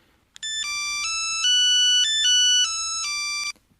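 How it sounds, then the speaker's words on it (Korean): A mobile phone ringtone plays a clear, bright electronic melody of stepped tones, close and steady for about three seconds, then cuts off, with no speech. "어느 날 지숙 씨의 휴대전화가 울립니다."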